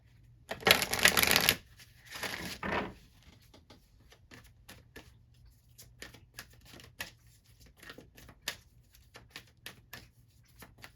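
Tarot cards shuffled in two loud bursts of riffling, followed by scattered soft taps and card flicks against a quiet background.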